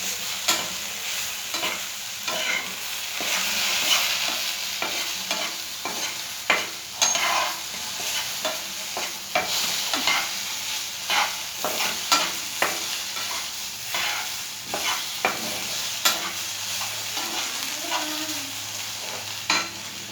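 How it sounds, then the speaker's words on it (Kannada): Chopped vegetables frying in a pan, stirred throughout: a constant hiss of oil broken by frequent sharp clicks and scrapes of a spoon against the pan, close and steady with no voices. "ಆಮೇಲೆ ಚೆನ್ನಾಗಿ ಫ್ರೈ ಆಗಬೇಕಿದು"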